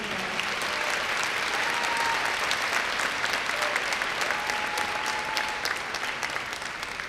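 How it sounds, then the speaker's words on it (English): Audience applause at a high school graduation ceremony, a steady, dense roar of clapping from a large crowd that holds evenly for several seconds with few voices. "Let's give that a big round of applause."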